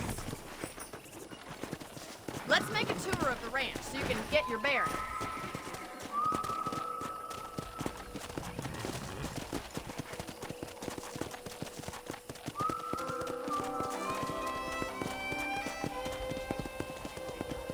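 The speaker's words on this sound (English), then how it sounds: "let's see if you can still ride a horse." Horse hooves clip-clop steadily on a ranch in the Red Dead Redemption video game, with a moderate walking rhythm under game music. A voice speaks over the hoofbeats partway through.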